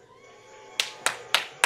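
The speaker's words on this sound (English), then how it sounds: "Alexa, open applause." Applause played back by an Alexa smart speaker during an online karate class: four sharp, evenly spaced claps ring out after a quiet stretch.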